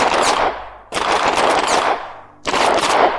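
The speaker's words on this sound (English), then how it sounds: "We have tracked controllers now with guns you can fire in VR." Rapid bursts of gunfire from guns fired in a VR game, three loud volleys of fast shots with short gaps between them.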